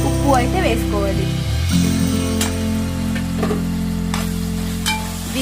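Ginger garlic paste and curry leaves frying in a pan with steady, loud sizzling throughout, stirred now and then, with a low music bed underneath and no voices.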